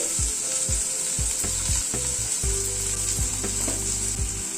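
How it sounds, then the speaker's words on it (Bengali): Chopped tomato hits hot oil in a pan and sizzles steadily while a spoon scrapes and stirs it, with a few sharp clacks of utensil against the pan and no talking. "টমেটোটা দিয়ে একটু নাড়াচাড়া করে নিচ্ছি"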